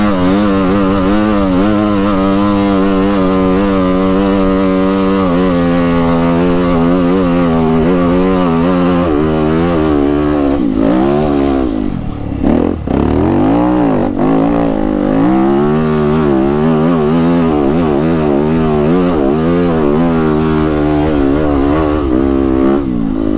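A WR dirt bike engine screams up a steep hill at Baldy Mesa. It holds a loud, continuous high rev that wavers in pitch with throttle changes, dips briefly midway, then climbs again, very close throughout.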